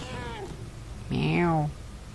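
A single cat meow in the video game Murdered: Soul Suspect, a bright falling cry lasting about half a second, heard clearly after a brief stretch of quieter voice-like sound.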